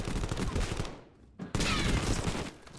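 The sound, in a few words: SMG gunfire in a video game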